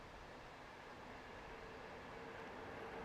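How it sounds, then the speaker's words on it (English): A train passes beyond a cricket ground in Hungary, a faint, distant, steady rumble that holds evenly throughout with no voices on top. "you hear a train in the background"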